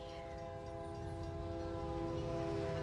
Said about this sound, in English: Oh, the train about to go choo-choo.